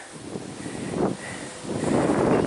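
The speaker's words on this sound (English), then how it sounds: "it's dead windy" Strong wind buffets the microphone in rough, roaring gusts that swell and fade beside the Ashby Canal, with no voices present.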